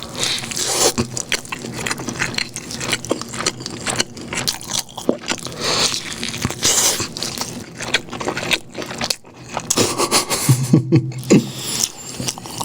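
Close, loud crunching and chewing on a Burger King burger with bacon, wet bites and mouth noises in irregular bursts, with no speech.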